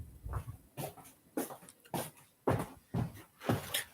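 A dog whimpers close by in a quick series of short, breathy whines and snuffles, about seven bursts in a steady rhythm with brief silences between them and no talking.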